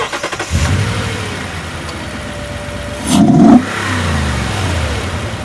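A truck engine fitted with a K&N Next Gen air filter starts up and revs briefly with a throaty intake roar, then settles into a steady rumbling idle.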